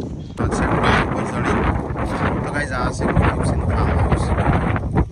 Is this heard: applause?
no